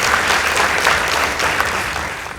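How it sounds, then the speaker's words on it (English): Audience members at a high school debate competition break into loud, sustained applause, a thick wash of clapping with a faint murmur of the crowd beneath. "Let's give them a round of applause"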